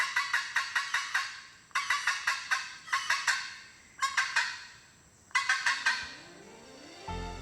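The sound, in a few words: red-throated caracara calling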